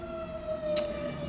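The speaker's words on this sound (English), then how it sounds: "the sirens are going off" Sirens sound through the neighborhood as a faint, steady wailing tone that holds through the moment, with a short hissing burst near the end.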